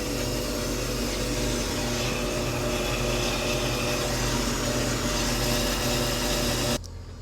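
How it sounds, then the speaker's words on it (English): Brake lathe making a smooth final cut across a brake rotor, a loud, steady whirring machine drone with a constant pitch that stops abruptly near the end. "we're making a nice smooth cut for our final cut across the rotor"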